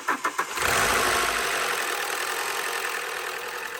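An Alfa Romeo 145 Cloverleaf engine, started after sitting for eight years, cranks with a few quick turns, then catches and roars up before settling into a loud, rough, steady idle.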